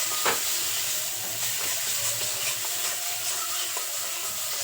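Spices with Kashmiri chilli powder and salt sizzle in a pan while being stirred, a steady close frying hiss broken by a few scraping clicks, with no talk.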